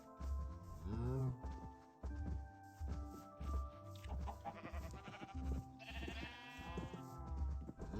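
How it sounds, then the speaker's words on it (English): Sheep in a block-building video game bleat several times, quavering cries near and far in quick succession over a steady low thumping game soundtrack. "Oh, the sheep going nuts."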